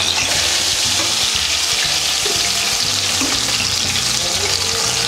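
Sardines frying in a pan, a steady loud sizzle and crackle filling the whole stretch without a break.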